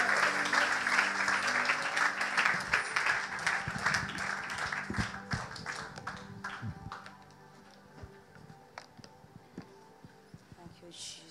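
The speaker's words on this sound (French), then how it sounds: "sous vos acclamations encore une fois, je vais inviter le pasteur Rebecca Muchita" A church congregation bursts into applause and acclamation for a pastor, a loud swell of clapping and cheering voices that gradually thins out into scattered claps and quieter voices.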